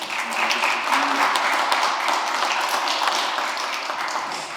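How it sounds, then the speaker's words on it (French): Audience applauding the panelists at a French law conference, steady broadband clapping sustained across the whole stretch, fairly close and dense with no break. "Ce que je vous propose, c'est qu'on applaudisse nos panélistes"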